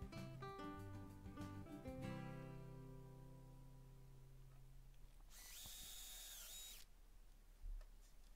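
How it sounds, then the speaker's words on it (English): A power drill whirs in a short burst of a second or so, drilling pilot holes in scrap wood, partly masked by background music. "And then drill through some more pilot holes and add some more screws."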